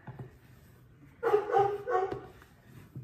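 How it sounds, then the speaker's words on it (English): Several dogs bark in a loud burst in a home kitchen while bread dough is folded by hand; the yapping runs for about a second and then trails into fainter, scattered noise. "Sorry for the interruption of my dogs, guys."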